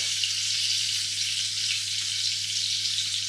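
A stuffed lamb loin roast sears in a hot pan, giving a steady, even sizzle up close with a low constant hum beneath and no talking.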